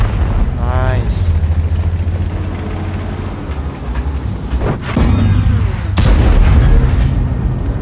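Tank cannon fire from World of Tanks, a T110E5 in battle, with several heavy booms and shell impacts spread through a continuous rumbling battle bed while someone talks over it.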